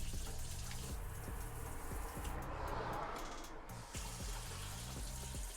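Water gushes steadily from the pull-down spray nozzle of a sink faucet in a Ford Transit camper van. It runs close and continuous for several seconds, with a low pulsing hum beneath it.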